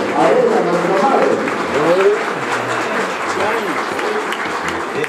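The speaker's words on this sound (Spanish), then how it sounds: "Fuerte el aplauso a ella, nuestra madre." A gathering at a memorial Day of the Absent event applauds loudly and continuously for a mother, with voices talking and calling over the clapping.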